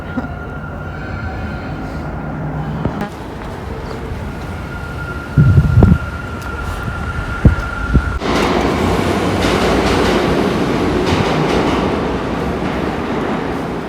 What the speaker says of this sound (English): Y'all hear the train?